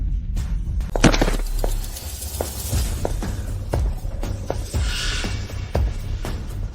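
A fireworks show bursts in scattered sharp cracks and pops, some loud and close, others lighter, with crackling trails between them and no talking.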